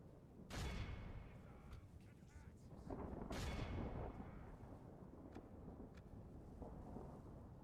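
Ranged units fire on an enemy in a Total War: Divide and Conquer battle, heard as two loud booming volleys a few seconds apart, followed by a rumbling battle din with scattered sharp cracks.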